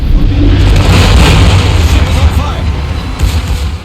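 Rapid naval gunfire and booming blasts from a Tier 9 German battleship's secondary guns in a naval battle video game, a dense continuous barrage that stays loud throughout.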